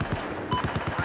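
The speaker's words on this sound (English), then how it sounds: "Getting shot at." Battlefield 4 gunfire on PlayStation 4, a rapid run of close, punchy shots in a steady rhythm with voices nearby.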